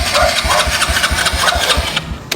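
A motorcycle engine sputters and struggles to catch after being washed at a car wash, with a rapid, uneven low chugging that is loud and close, then breaks off near the end.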